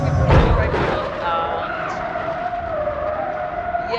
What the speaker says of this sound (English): we blew our engine up